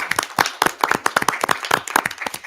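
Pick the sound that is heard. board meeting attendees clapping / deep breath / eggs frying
board meeting attendees clapping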